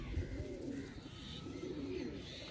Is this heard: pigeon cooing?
yes